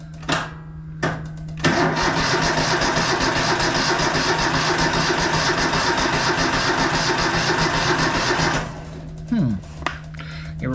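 A small tractor engine cranks, catches and settles into a loud, steady run for about seven seconds close by, then cuts off. Brief mechanical clicks and someone talking come before and after.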